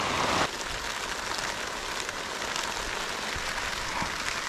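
Heavy rain drumming on a tarp canopy strapped over a Jeep camping setup, a dense, loud, continuous roar of drops with no speech.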